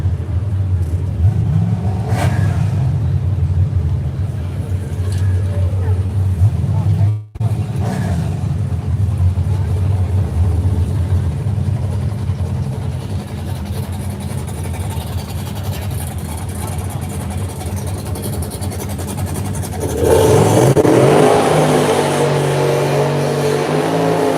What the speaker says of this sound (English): The newest body style Mustang going against the old 4i T-top